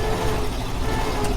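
A 1952 Ford truck runs with a loud, steady engine rumble during a brief stretch of driving.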